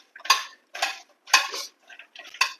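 A spoon clatters against a pot in five quick bursts of scraping and knocking while salted lentil curry is stirred, each stroke loud and close with short pauses in between.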